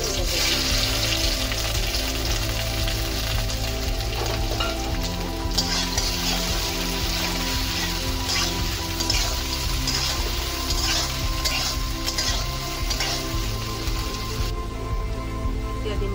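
Chopped onion and green chili frying in a hot karahi, giving a steady, loud sizzle with crackling throughout.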